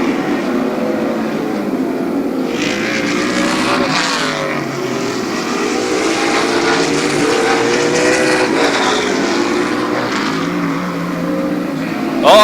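Stock cars racing at Barberton Raceway Park, a continuous loud roar of engines circling the track with rising and falling revs as the pack passes, under faint commentary.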